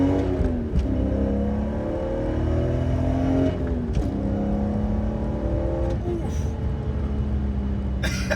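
A worn, high-mileage BMW M3 E46 with 174,000 miles accelerates hard in second gear, its engine note climbing in repeated rising sweeps with brief dips at shifts or lifts, loud and close, with faint talk in the background.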